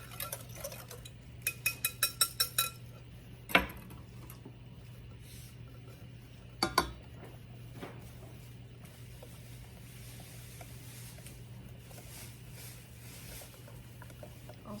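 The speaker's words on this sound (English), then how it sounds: "Also stirring when I'm incorporating it, scraping down my bowl." A spoon stirs a custard mixture of eggs tempered into hot cream for crème brûlée and scrapes a bowl, with a quick run of light taps, a few sharp clinks and soft scraping over a faint steady hum.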